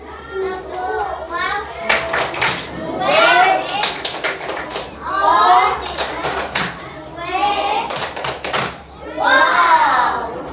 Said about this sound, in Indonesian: Ayo kita berikan tepuk